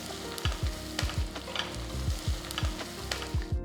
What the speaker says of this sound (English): Sauté the onions for about 2 minutes until they turn translucent.